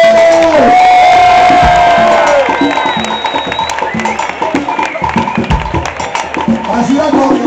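A concert crowd cheers, whoops and shouts loudly and continuously at a Cuban salsa show in Barcelona, with sustained crowd noise and high whistles filling the stretch.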